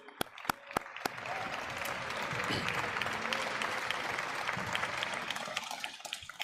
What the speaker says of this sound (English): I want to give them a nice round of applause, please